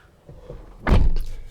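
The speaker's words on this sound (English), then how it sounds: "Door is really solid, thumping, not like the door panel." A 2012 Honda Pilot EX-L car door shuts with one solid, heavy thump, close and fairly loud, following a quieter rustle of movement inside the vehicle.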